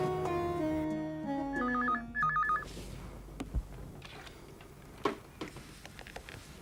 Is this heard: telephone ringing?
yes